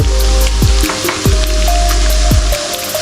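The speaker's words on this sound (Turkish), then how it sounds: "2-3 dakikada bunları kavuruyorum." Dried apricots and raisins roasting in a hot pan with honey, a loud steady sizzle and crackle, with several scraping stirs of a utensil across the pan, close and without talking.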